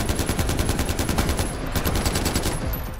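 Rapid automatic gunfire rattles in Far Cry 4 during a temple defense, a loud, close, unbroken stream of machine-gun bursts lasting the whole moment.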